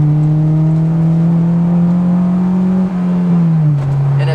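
A Honda S2000 engine revs hard into VTEC, a loud, close, steady rising drone with strong harmonics that holds for several seconds before dropping back slightly near the end, with no voices.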